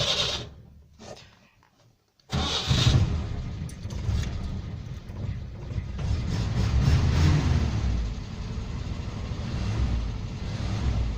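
A Peugeot 404 engine cranks briefly after a short near-quiet spell, then catches at about two seconds and settles into a loud, steady, rumbling idle that swells slightly and holds close by with no talking.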